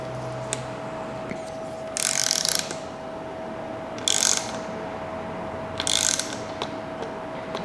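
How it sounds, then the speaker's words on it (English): A ratcheting torque wrench tightens a fork foot nut during a lower leg service on a bicycle fork, giving three short bursts of clicking, each about half a second long, close and fairly quiet, separated by pauses. "with your torque wrench, once it's set, you'll notice it's going to make a click"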